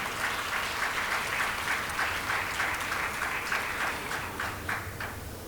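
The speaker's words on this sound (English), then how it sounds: "Shall we give them a big round of applause?" Audience at a national seminar valedictory on climate literacy clapping, a dense, steady round of applause from a sizeable crowd indoors, tapering slightly toward the end.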